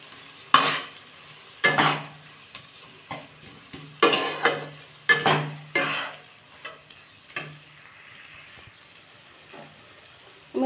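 Spices with a splash of water are stirred in a pan for pea ghugni, giving repeated scraping strokes of a spatula with a soft sizzle, several distinct stirs in uneven rhythm, close and fairly loud, no talking.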